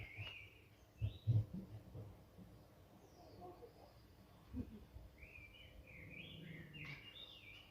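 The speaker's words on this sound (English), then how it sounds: "You hear the birds?" Birds chirp and trill faintly in the distance, scattered short calls breaking a quiet outdoor background, with a few low thumps early on.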